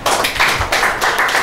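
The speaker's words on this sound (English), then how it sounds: "Can you clap for that?" A crowd claps at an anti-tax gathering in Cross River, a dense, loud, continuous burst of applause that holds steady throughout, with no talking.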